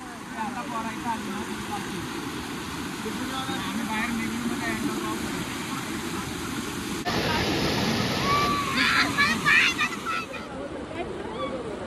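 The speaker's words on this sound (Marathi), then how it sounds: "काय ते पाणी वाहते त्याशी खतरनाक पाणी वाहते" A waterfall pours with strongly flowing water, a dense, constant rushing roar that swells slightly partway through, with faint voices mixed in.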